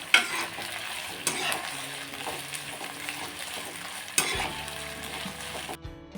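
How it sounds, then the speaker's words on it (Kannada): Brinjal (eggplant) fries in a pan, a continuous close sizzle broken by a few sharp stirring scrapes and knocks, ending abruptly. "ಬದನೆಕಾಯಿ ಚೆನ್ನಾಗಿ ಫ್ರೈ ಮಾಡಿ ಎತ್ತಿಟ್ಕೊಂಡ್ಬಿಡ್ತೀನಿ"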